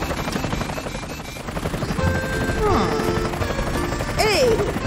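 Helicopter sound effects from a children's cartoon about rescue vehicles, a whirring rotor drone under busy music and effects, with rising and falling whistling tones toward the end.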